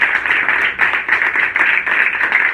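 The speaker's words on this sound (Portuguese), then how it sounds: "e as palmas é para o Senhor." Congregation clapping in rhythmic unison during a Portuguese-language church service, a close, loud pulse of claps repeating steadily with no talk over it.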